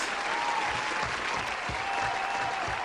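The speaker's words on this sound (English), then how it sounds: "let me give a round of applause to our wonderful sponsors" Steady applause from an audience greeting the sponsors of a podcast event, dense and continuous for the whole stretch at a fairly even level.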